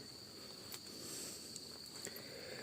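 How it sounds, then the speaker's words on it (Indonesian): Crickets chirp at night in a forest beside a roadside food stall, a steady high-pitched trill that holds throughout with a few soft rustles and footstep-like taps underneath. "hanya suara jangkrik yang menemaniku saat ini."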